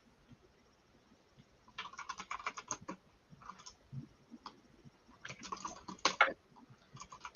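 Someone types on a computer keyboard in bursts of fast, close clicking keystrokes with short pauses between them, and nobody talks.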